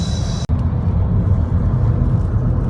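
A 2015 Volkswagen Jetta TDI diesel with a 6-speed manual cruises along, giving a steady, close cabin drone of engine and road noise after a brief click at the start.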